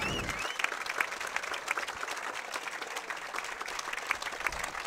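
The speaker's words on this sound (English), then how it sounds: "The crowd on their feet, they really appreciated this level of play here" A crowd rises to its feet applauding after the women's gold medal match at the 2017 USAPA pickleball Nationals, a dense, steady wash of clapping and cheering that fills the arena throughout.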